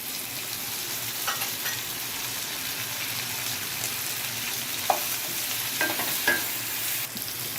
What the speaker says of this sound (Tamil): இப்போ இந்த தக்காளியை போட்டு வதக்கப்புறம்